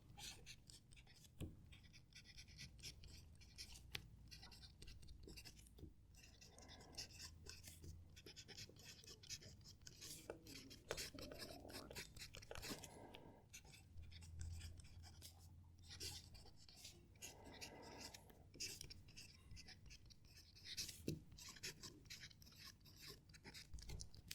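A soft-nibbed fountain pen writing on paper, giving faint, close scratchy strokes in short bursts with brief pauses between words, quiet against a low background hum.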